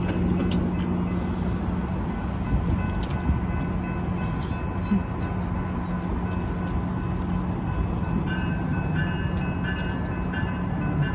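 The M264 passenger train departs Sun Valley station, with SCAX 868 trailing, a loud, steady rumble of rolling cars and a droning engine, joined by faint tonal squeals.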